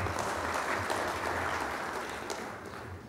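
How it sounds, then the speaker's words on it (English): Conference audience applauding for the teachers in a hall, dense steady clapping from many hands that carries on at even loudness for a few seconds. "So I would like an applause for the teachers also here."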